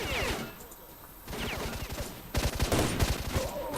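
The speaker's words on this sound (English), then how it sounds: "Stop shooting me in the face!" Repeated bursts of automatic gunfire ring out in S.T.A.L.K.E.R.: Shadow of Chernobyl, a shooter game, with rapid cracking shots in close, dense volleys and short pauses between them.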